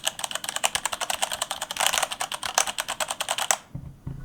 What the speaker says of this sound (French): Et le clavier mécanique.